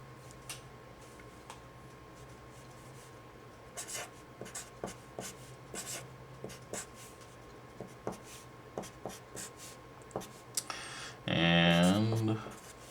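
A pen scratches across paper in short, irregular strokes, close and fairly quiet, with a brief burst of talking near the end.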